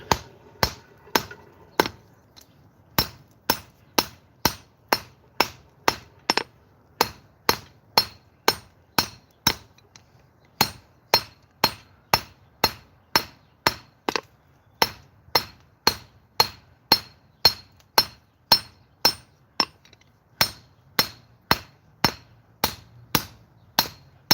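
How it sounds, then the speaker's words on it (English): A flat hammer forges a metal end flat on an anvil in a long run of sharp, ringing blows, struck close and at a steady rhythm with one brief pause partway through. "I'm going to take this hammer, it's pretty flat, and we're just going to flatten out this end."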